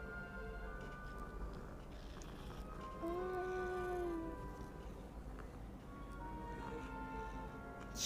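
A cat in the video game Hogwarts Legacy gives one clear, drawn-out meow over steady game ambience and background music.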